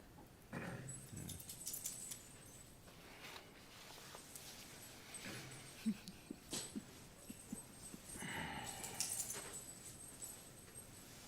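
A dog whimpers during a city planning commission meeting: soft, intermittent whines and small noises scattered through a quiet hall, with no talking.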